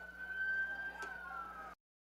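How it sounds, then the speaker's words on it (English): An ambulance siren heading out on a call passes a high school football broadcast in Iowa. The steady wailing tone sounds faint and distant under crowd and field ambience and cuts off abruptly. "Ambulance going out in the call."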